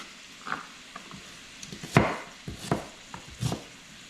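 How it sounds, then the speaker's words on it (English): A knife dicing a yellow Styrian garden onion on a cutting board gives a series of sharp, close chopping taps at an irregular rhythm, one louder than the rest, with no talking. "so we're just dicing that up"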